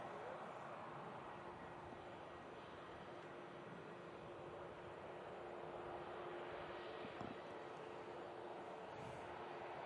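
British Airways A319-100 airliner on the shuttle service at a foggy Manchester Airport, a faint, steady engine roar at a distance, continuous and even without any talk.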